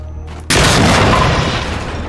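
Gunfire in the video game Generation Zero: after a quiet start, one loud, sharp gunshot blast hits and rings out into a long, rumbling echoing decay.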